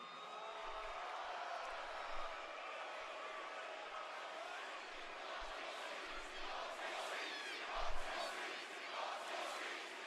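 A wrestling arena crowd at a SmackDown show chants out of sync, a broad roar of voices sounding distant and blended, with scattered louder shouts rising briefly.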